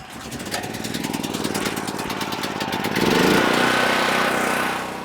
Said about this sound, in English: Good old internal combustion engine.